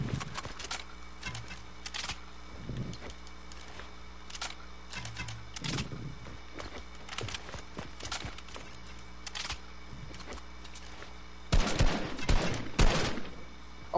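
Flintlock and heavy sniper gunfire in a multiplayer video game, scattered sharp shots cracking at intervals over a quiet background, with a louder cluster of blasts near the end.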